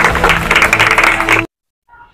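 A gathering in a Nalasopara building claps warmly to welcome Deshmukh, the dense, loud applause running for about a second and a half before cutting off abruptly into near silence.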